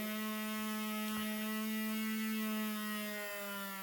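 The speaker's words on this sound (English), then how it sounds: "Now you can see the speed of the motor decreasing as soon as I turn the knob back." Small DC motor driven by an Arduino, a steady close electric whine whose pitch shifts slightly as the speed changes, alone with no talking.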